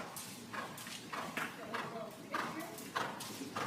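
A horse canters in a long, reaching stride during a riding lesson, its hoofbeats thudding in a regular three-beat rhythm at mid distance, with a voice speaking over them.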